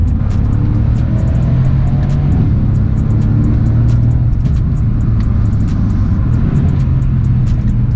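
A Mercedes C63 AMG coupe's engine roars under acceleration, a loud, deep, continuous rumble heard from inside the car on a drive, with no talking.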